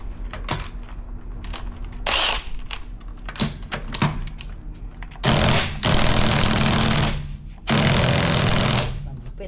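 Power tool bursts loosening wheel lug nuts on a Toyota RAV4 during a DIY brake job, several loud buzzing rattles of about a second each, separated by clicks and quieter handling noises.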